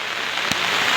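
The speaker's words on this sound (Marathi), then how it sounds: "पाऊस बघा किती लागतंय" Heavy rain pours down in a dense, steady hiss, loud and close, with a single brief thud standing out midway.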